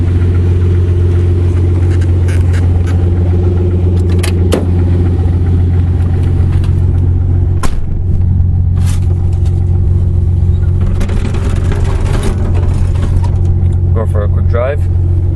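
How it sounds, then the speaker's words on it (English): A 1982 Ford Granada's 200 cubic inch inline six running on factory propane idles with a steady low rumble throughout, with intermittent clicks and a voice talking over it. "This is an inline 6 engine,"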